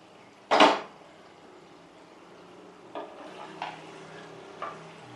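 A metal lid clanks down onto a pot of chicken and cashew curry on the stove with one loud clatter, then a few fainter clinks follow as the pot settles.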